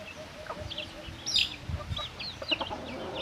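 Pet chickens cluck and murmur close by, with several short calls and one louder squawk rising over a low background rumble.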